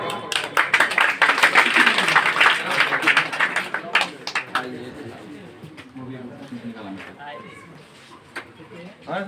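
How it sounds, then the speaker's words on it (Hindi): A crowd at a village award ceremony in Madhubani, Bihar claps loudly in a dense burst that thins out over several seconds, while voices talk and birds coo in the background. "जोरदार तालियां"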